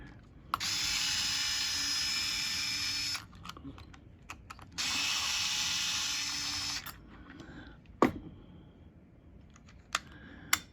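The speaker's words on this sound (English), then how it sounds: "So then we have to take this apart. So it has some screws on it." Screws being driven out of a Favero fencing plug head with a power driver, two sustained whirring bursts of several seconds each followed by sharp clicks and small metallic knocks, close and alone.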